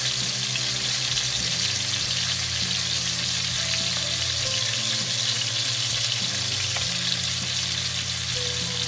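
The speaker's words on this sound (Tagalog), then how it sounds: "Lagay tayo ng white onion para bumango" Chopped white onion frying in a hot pan, giving a steady, close sizzle with a crackling hiss throughout, joined by occasional light stirring clinks and a low hum in the background.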